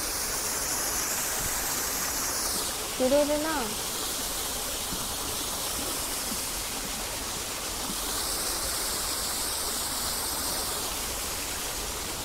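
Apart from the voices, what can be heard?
small waterfall in a park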